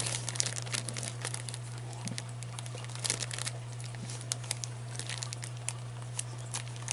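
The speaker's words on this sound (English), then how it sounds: "Putting them in a Ziploc bag keeps them from being dusty too." A Ziploc plastic bag is handled and pressed shut, close crinkling and rustling in irregular bursts over a steady low electrical hum.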